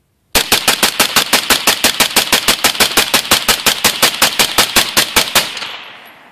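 A rifle with an Armalite two-stage trigger fires rapidly through a homemade titanium suppressor, about thirty loud, sharp reports in a steady, even rhythm, then a short fading tail.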